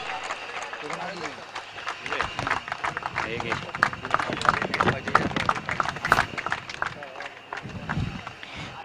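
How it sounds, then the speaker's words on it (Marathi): Applause and cheering from an audience at a cricket trophy prize ceremony, a dense steady clatter of clapping that runs the whole time, with a voice briefly over it near the end. "जोरदार टाळ्या झाल्या"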